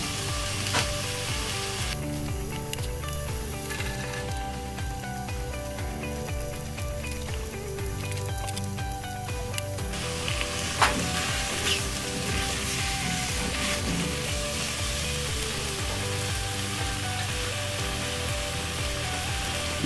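Two chopped garlic cloves fry in a Dutch oven, giving a steady, close sizzle that runs the whole time, with faint utensil knocks and stirring over it and a brief sharper clink partway through.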